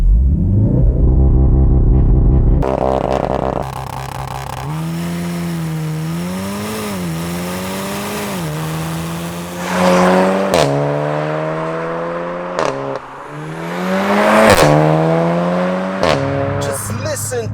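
A Volkswagen Golf R with the factory Akrapovic exhaust drives on Swedish back roads. The exhaust drones loudly and rises and falls through gears, with sharp revs, quick lifts and crackling shifts.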